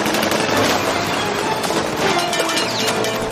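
Rapid bursts of gunfire aimed at a vehicle speeding away, loud dense cracks and rattling shots overlapping with crashing impacts, continuous for a few seconds with no talk.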